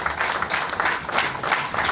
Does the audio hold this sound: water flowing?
no